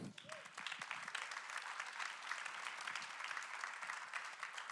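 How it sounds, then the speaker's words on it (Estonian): An audience at an architecture awards ceremony breaks into steady, even applause, a continuous wash of many hands clapping in a large room, heard at a modest level without a pause. "Nüüd on aplausi koht küll."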